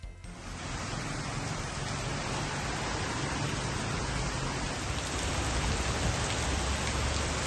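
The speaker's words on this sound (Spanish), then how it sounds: "era lluvia torrencial" Torrential rain pours onto a street in Tumbes, a dense, unbroken roaring hiss that stays loud and steady throughout, with a faint low rumble beneath.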